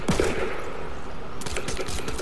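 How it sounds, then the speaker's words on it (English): Drum shotgun gunfire in Fortnite, a rapid string of loud, close shots rattling in quick succession, with a denser burst of crackling shots near the end. "he had that new drum shotgun"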